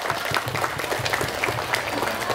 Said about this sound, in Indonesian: Tepuk tangan untuk Ustadzah Yora.